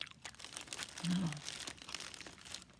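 Crinkling plastic packaging of small milk chocolate candy balls, handled close up with soft, irregular crackles and rustles and a brief heavier crunch midway, all at a quiet, intimate level.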